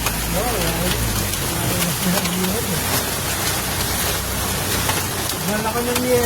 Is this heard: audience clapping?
no